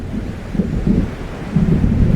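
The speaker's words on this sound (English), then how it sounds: "It seems there's a storm coming." A thunderstorm draws near in Alan Wake Remastered: a deep, rolling rumble of thunder swells twice in a short burst over a low, steady bed of rain-like wash.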